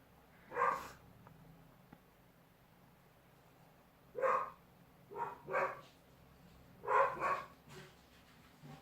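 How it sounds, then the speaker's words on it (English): Several dogs bark in short bursts from a distance, one single bark, then clusters of two or three, with quiet pauses between. "Dogs are barking again."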